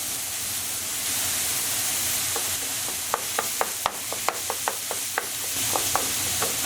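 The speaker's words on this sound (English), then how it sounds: "we just want to keep on cooking until our lamb has browned" Lamb mince fries in a pan with a steady hiss, while a utensil scrapes and taps the pan repeatedly through the second half. The sound is close, and no one speaks.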